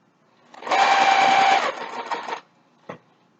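A sewing machine runs in a fast, steady burst for about two seconds while stitching a 1/4-inch seam on an Olson face mask, with a short back stitch at the end. A single sharp click follows.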